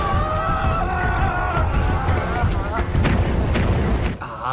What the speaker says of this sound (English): they're using the explosions that always leaves the ground without being the least bit damaged